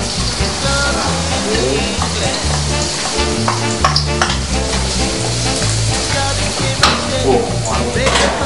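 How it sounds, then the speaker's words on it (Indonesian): Coarsely chopped garlic frying in hot olive oil for spaghetti aglio olio, a steady loud sizzle with scattered crackles and stirring clatter, over low rhythmic background music and no talk. "Setelah minyaknya panas, kita masukkan bawang putih yang sudah dicincang kasar."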